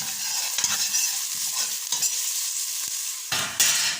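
Sliced onions fry in hot cooking oil with a steady close sizzle, punctuated by several sharp scraping stirs of a utensil against the pan and a louder burst toward the end.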